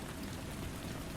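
Steady, dense rain pours continuously with an even hiss and soft low patter, close and unbroken, no voices.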